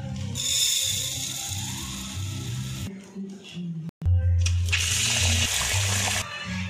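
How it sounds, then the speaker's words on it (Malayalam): Rice being rinsed in water before going into a pot of boiling water, giving running, splashing water sounds close by with a brief break midway, while a voice talks over part of it. "വെള്ളം തിളച്ച് നമുക്കിനി അരിവി കഴുകി ചേർത്ത് കൊടുക്കാം."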